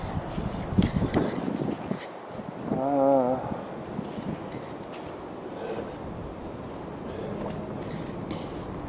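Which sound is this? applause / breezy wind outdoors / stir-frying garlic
breezy wind outdoors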